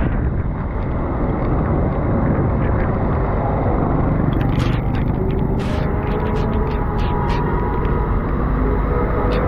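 Loud, roaring wind from a storm with torrential rain at Hill Park Chowrangi buffets the microphone continuously, with low rumbling gusts and occasional higher hissing bursts.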